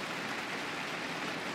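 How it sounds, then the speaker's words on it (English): The home crowd in Japan applauds at a 2012 Japan Open men's table tennis semifinal, a dense, even wash of clapping that holds steady at a moderate distance. "Earning a lot of applause from his home crowd."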